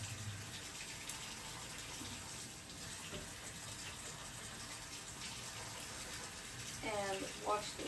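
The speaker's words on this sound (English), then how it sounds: "I'm going to turn my water on to warm" Water runs steadily from a salon shampoo-bowl tap being warmed up, a broad constant rush with a brief squeaky handle or splash sound near the end.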